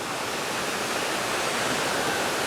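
Sojeongbang waterfall pouring down a cliffside on Jeju, a steady, dense roar of falling water heard up close with no pauses or voices.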